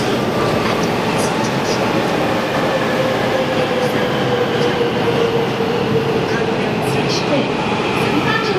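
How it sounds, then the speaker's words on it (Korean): A circular subway train pulls into a station toward Gangbyeon, a loud, continuous rumble with rising wheel squeal and metallic rail noise, while a public-address announcement plays over it. "지금 강변역 방향으로 가는 대선 순환열차가 들어오고 있습니다"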